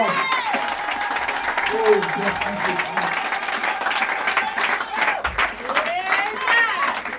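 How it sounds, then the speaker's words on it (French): A church congregation applauds and cheers for several seconds, with sustained clapping, shouts and scattered voices filling the room. "Maintenant, acclamez très fort le roi de roi."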